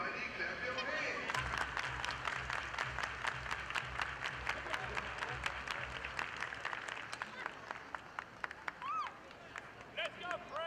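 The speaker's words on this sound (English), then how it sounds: "Everybody clap your hands." Baseball fans at a Sugar Land Skeeters game against the Lancaster Barnstormers clapping hands in a quick, regular rhythm, sharp claps over crowd noise and a steady low hum, with a few whistles and voices near the end.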